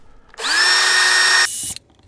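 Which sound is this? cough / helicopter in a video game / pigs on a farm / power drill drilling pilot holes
power drill drilling pilot holes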